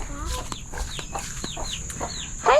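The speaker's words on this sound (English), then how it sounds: "Hey chickens!" Backyard homestead chickens cluck and chirp in a series of short calls, close by against a steady outdoor background, with a louder burst at the end.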